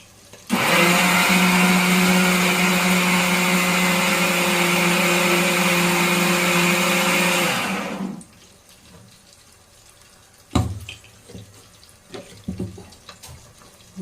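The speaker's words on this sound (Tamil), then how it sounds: "இப்போ மீன் குழம்புக்கு உண்டான மசாலாவை அம்மா போய் அரைச்சிட்டு வந்து" A loud mixer grinder grinds fish curry spice paste, whirring steadily for about eight seconds, then cuts off, leaving a few clattering knocks and handling sounds.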